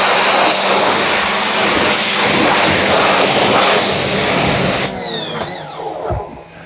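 An EGO HPW3200 battery pressure washer blasts concrete with a loud, steady broadband hiss that holds for about five seconds, then cuts off and gives way to quieter, uneven spurts.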